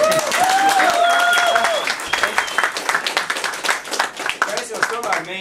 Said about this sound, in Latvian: aplaus gaļt Mārim.